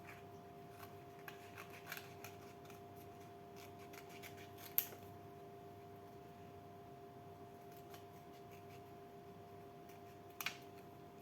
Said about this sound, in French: je vais découper.